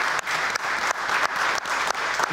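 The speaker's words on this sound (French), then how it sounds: "Je pense qu'on peut l'applaudir." Audience applause after a demo, a full, close burst of many people clapping, steady and loud with a few brief dips across two seconds.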